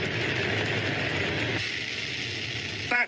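A rocket engine roars in a loud, steady broadband rush throughout, the thick noise slightly thinning midway, with a short rattling burst near the end.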